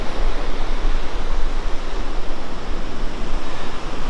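Steady broadband roar of surf and wind at the Murray River mouth on a wet day, loud and continuous with no pauses or voices.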